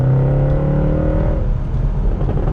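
A Mercedes C63 AMG coupe V8 with secondary cats and mid resonator deleted revs loudly up close. Its deep rumbling exhaust swells, then settles into a burbling idle, with no voices over it.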